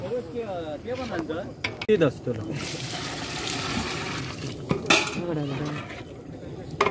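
Water splashes and pours into a metal cooking pot for a Malvani feast amid clanking cookware, with people talking nearby throughout.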